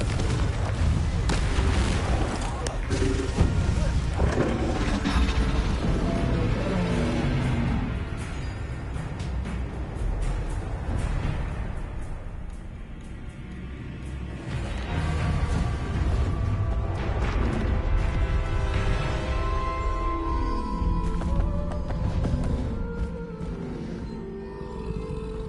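Blasting spell explosions from the Hogwarts Legacy video game, with dense booming blasts and rumbling over a continuous loud battle mix, joined by in-game voices.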